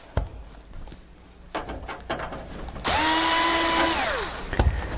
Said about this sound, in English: So what you need to do is take that off by removing the two screws.